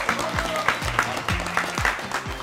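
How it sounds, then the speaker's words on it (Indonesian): A small group claps indoors in a loose rhythm, fairly quiet sharp hand claps repeating for a couple of seconds with faint voices underneath. "Tepuk tangan dulu."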